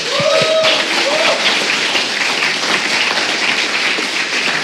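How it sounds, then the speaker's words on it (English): Crowd applause at a live gaming event honouring twenty gladiator contestants, steady and loud throughout, with a few cheers and whoops rising over the dense clapping. "round of applause"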